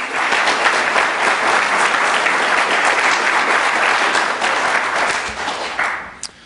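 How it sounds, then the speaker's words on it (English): Steady crowd applause at a police department awards ceremony honoring community supporters: continuous, full clapping from many hands, loud and even, tapering off in the final second. "That needs another clap for those folks"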